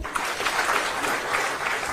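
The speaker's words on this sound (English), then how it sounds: "Charles Mativo, makofi kwake." Sustained applause from a large audience at a World MSME Day ceremony at KICC in Nairobi, honouring an official. It is steady and dense throughout, with no speech over it.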